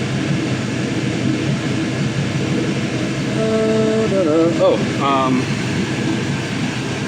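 A 5.3L truck LS engine runs on a test stand with a steady, loud, droning hum throughout, while someone talks briefly over it.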